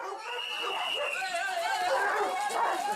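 Several excited dogs yip and bark in quick, overlapping bursts at an outdoor canicross race, close and fairly loud, mixed with the chatter of people nearby.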